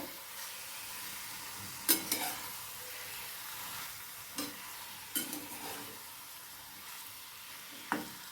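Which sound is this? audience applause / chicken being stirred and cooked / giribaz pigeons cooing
chicken being stirred and cooked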